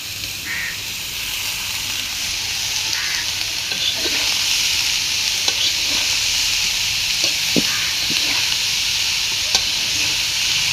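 Sponge gourd sizzles steadily as it fries in a pan, a continuous bright hiss with occasional clicks and scrapes of stirring, close and even throughout with no talk.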